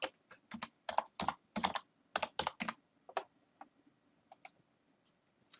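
Someone types a folder name on a computer keyboard while building a Google Earth Pro tour. Quick bursts of close, crisp key clicks come in uneven runs with short pauses, then thin out into a few scattered taps.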